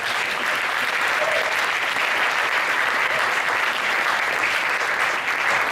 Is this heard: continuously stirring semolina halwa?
no